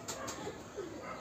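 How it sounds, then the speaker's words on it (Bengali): Pigeons in a loft coo softly in a faint, low murmur, with a brief higher flutter near the start and no talking. "আছে বিভিন্ন ধরনের কবুতর আছে"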